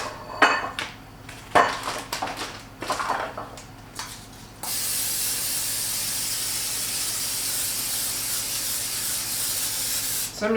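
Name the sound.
cooking spray sprayed onto vegetables in a pan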